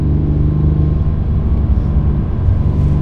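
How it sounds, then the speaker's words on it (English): A new Porsche 911 Sport Classic with a manual gearbox heard on a mountain pass at sunrise, its engine a loud, steady, deep rumble held at an even pace. "a first drive in this rather nice Sport Classic"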